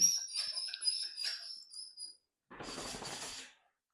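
A dog drinks and pans, with quick, faint wet lapping and breathy sounds up close, a short pause, then a burst of noisy panting or slurping before it goes quiet.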